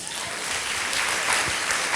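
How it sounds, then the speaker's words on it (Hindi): A church congregation applauds during a Holy Communion service, a steady, dense wash of many hands clapping that holds loud and even for the whole stretch, with no voices rising above it. "उस प्यारे यीशु के लिए ताली बजाइए"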